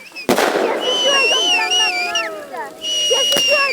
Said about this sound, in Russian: Тут еще и салют запускают на Новый год.